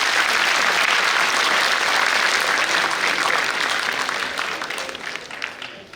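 An audience at a student awareness program on anti-ragging and anti-drugs applauds in a loud, dense wash of clapping that holds steady before gradually tapering off near the end.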